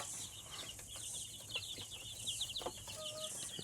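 Chicks cluck softly in a steady background murmur, with scattered short calls from a flock and no talking.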